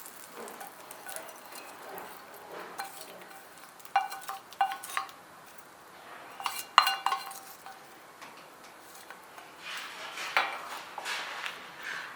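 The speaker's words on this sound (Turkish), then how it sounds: "Ve toz biberle şöyle bir karıştırıp hemen salatanın üzerine alacağım." Oil with red pepper flakes stirred in a small pan, with light clinks and scrapes of a spoon, a few sharper taps, and a faint sizzle underneath, close and fairly quiet.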